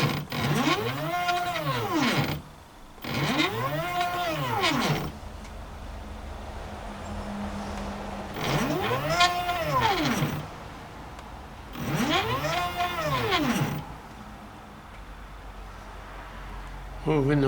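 An Arduino CNC router's stepper motors drive the axis back and forth in four distinct passes, each a rising and falling whine lasting about two seconds, separated by quieter pauses.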